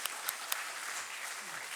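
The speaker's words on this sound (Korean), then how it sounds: "위로의 박수 하도록 하겠습니다" Applause of consolation from a church congregation at a Sunday worship service, a soft, steady wash of many hands clapping at a distance, faint overall, with a few sharper claps standing out near the start.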